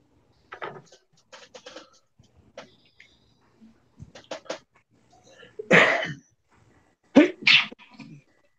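Indoors, one loud sneeze rings out, followed by a second burst a moment later, standing out clearly after a few quiet, scattered small noises.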